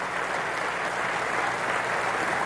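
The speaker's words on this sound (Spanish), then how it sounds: "Pido un aplauso para los aviadores militares de la aviación militar bolivariana" Sustained applause from a large audience for military aviators of the Bolivarian military aviation, a steady dense wash of clapping throughout with no talk over it.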